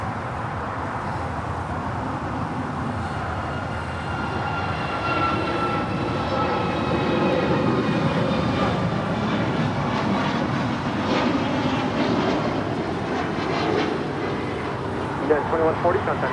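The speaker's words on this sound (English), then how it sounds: "This is United 2140 departing to Houston Intercontinental on a max 9." A United Boeing 737 MAX 9 airliner departs Los Angeles International Airport with a broad, steady jet roar that swells slightly midway, heard from a distance with a voice talking over it.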